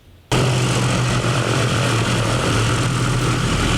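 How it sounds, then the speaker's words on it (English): The propeller engine of a C-47 World War II transport plane starts abruptly after a brief quiet moment, then drones loud and steady with a deep, throbbing rumble and no voices. "Placid Lassie is a C-47 World War II plane designed for paratroopers and transport"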